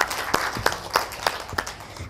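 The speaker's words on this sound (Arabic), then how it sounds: "تصفيقه تصفيق على نورهان" A short burst of applause, several people clapping in loose rhythm, moderately close, with no talking over it.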